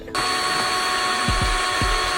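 A power drill whines steadily as it bores a large hole into a carbon fiber trunk lid on a widebody Proton Inspira, loud and close, with a few brief dips in motor pitch as the bit bites.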